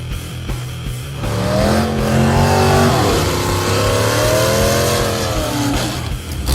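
A Mazdarati drag car on a nitrous setup revs loudly and accelerates, its engine pitch climbing and dipping through several surges as it makes a pass, heard close and without talk.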